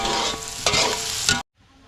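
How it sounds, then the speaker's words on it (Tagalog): Garlic and onion sauté in a hot pan with a bright, close sizzle and quick stirring scrapes, then the sound cuts off abruptly near the end. "Kaya muna natin maluto yung ating bawang sibuyas bago natin lagay yung baka natin."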